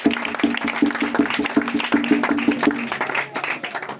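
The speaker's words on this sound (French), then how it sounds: "On acclame très fort pour Jésus." A church congregation applauds and cheers loudly for Jesus, with rhythmic clapping in even beats and voices calling out over it, fading into looser sound near the end.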